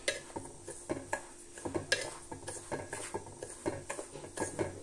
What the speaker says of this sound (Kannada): ಹಾಗೆ ತಿರುಗಿಸ್ತಾ ಇರಿ, ಏಕೆಂದರೆ ಕೆಳಗೆ ಹೊತ್ತುವ ಚಾನ್ಸಸ್ ಇರುತ್ತದೆ